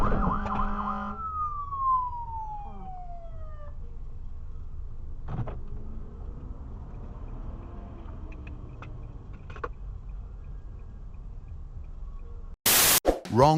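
Emergency vehicle siren on a freeway, a descending wail near the start that fades under steady traffic rumble, followed by scattered faint tones and a loud burst of noise at the very end.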